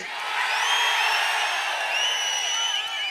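A large crowd cheers and shouts continuously at an AIADMK election campaign rally in Tiruvallur, a dense, loud roar with whistles and whoops rising above it throughout.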